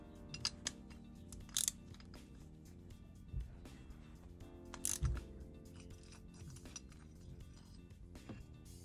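A 12mm socket ratchets on the pedals of a 1999 GT Avalanche mountain bike, giving faint metallic clicks and clinks scattered across a quiet workshop, with a few louder clanks and no talking.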